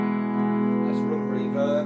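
An electric guitar played through a budget reverb pedal on its room setting, part of a cheap amp-and-pedals rig, ringing out in sustained, steady chords and notes with a short, roomy tail.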